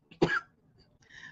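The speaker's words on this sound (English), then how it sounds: "coughing." A person in the middle of an asthma attack gives one sharp, close cough and then a softer, raspy throat-clearing sound a moment later.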